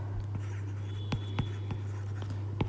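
Writing maths lines on a board: a series of short, distinct tapping and scratching strokes at an irregular rhythm over a steady low hum, no talking.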